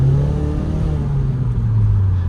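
Mazda 3 Skyactiv with a CorkSport MidPipe and HKS axle-back exhaust revving, a loud close engine note with a steady low drone that rises slightly in pitch, heard alone.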